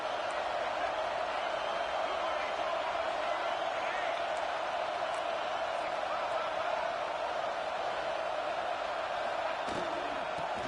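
A packed football stadium crowd at an Alabama at Michigan game roars in a steady, loud, unbroken wall of cheering that holds for the whole stretch, with no clear breaks or peaks.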